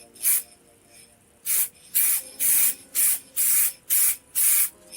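Short bursts of spray paint hiss in light coats, one isolated blast followed by a regular series of six or seven evenly spaced sprays with brief pauses between, close and fairly loud.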